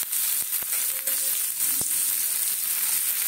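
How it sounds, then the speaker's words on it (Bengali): Boiled chickpeas fry in a pan with a steady bright sizzle, broken by a few soft knocks and scrapes as they are stirred, with no voices. "এই ছোলেগুলো ভাজ"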